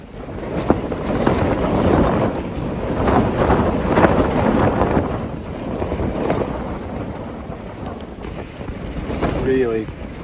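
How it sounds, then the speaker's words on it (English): Strong gusts of wind buffet a tent at a Lake District wild camp. The wind roars and buffets loudly and close, swelling and easing without a break. "There's some really big gusts coming through."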